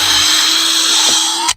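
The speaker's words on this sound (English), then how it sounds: "I'm going to just drill" A power drill whirs steadily at high speed for about a second and a half, then cuts off abruptly.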